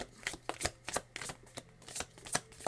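Tarot cards being shuffled by hand, a quick run of crisp riffling snaps and soft slaps repeating about every half second, close and fairly quiet with no voices.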